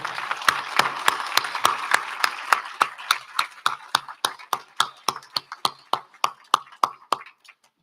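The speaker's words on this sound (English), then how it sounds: "can we give a rousing applause to our panel?" Audience applause for a panel at a Rev. Dr. Martin Luther King Jr. annual celebration, starting as dense group clapping and thinning to a few sharp, evenly spaced claps near the end, fairly close and without talk.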